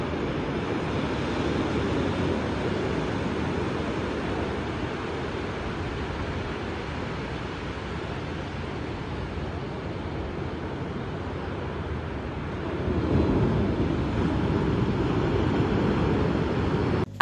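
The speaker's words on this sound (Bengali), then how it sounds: "রাতের বিচ না এক অন্যরকম সুন্দর, সমুদ্রের আওয়াজটা এত বেশি সুন্দর থাকে, জাস্ট শুনেন সমুদ্রের আওয়াজ, সমুদ্রের গর্জন" Ocean surf on a Cox's Bazar beach at night, a steady broad wash of breaking waves with a swell in loudness near the end, with some wind and no talk.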